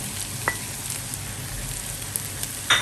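Tofu sizzles steadily in a hot pan, a constant frying hiss with a few light clicks of stirring.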